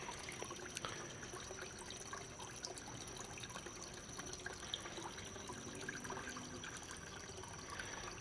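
Small waterfall trickling into a bucket pond stocked with goldfish, a steady soft splash and dribble of water running continuously at close range with no talking.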